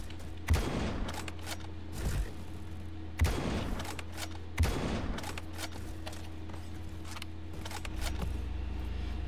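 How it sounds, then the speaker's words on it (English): Bullpup sniper rifle fired in the online shooter Bad Business, several spaced heavy shots with booming tails over a steady low game hum, no talk. "a bullpup sniper rifle"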